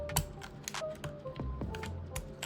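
Keycaps are pried off a Keychron K12 wireless compact keyboard, giving a quick run of sharp plastic clicks and taps with small rattles in an uneven rhythm, close by and moderately loud, with no talking.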